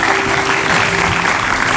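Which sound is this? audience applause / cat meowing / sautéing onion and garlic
audience applause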